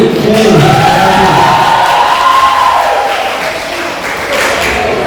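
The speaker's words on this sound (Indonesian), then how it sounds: "Ya, tepuk tangan sekali lagi." Audience applause at a closing awards ceremony for a university faculty in Manado, a dense steady wash of clapping and crowd noise that holds loud throughout, easing slightly toward the end, with some voices mixed in.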